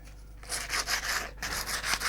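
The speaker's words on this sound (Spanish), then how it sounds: "Ahora hay que darle lija para quitar los poros de los cortes." Sandpaper rubs back and forth across a small container carved from a tree trunk in quick, rhythmic rasping strokes, close and fairly loud with brief pauses.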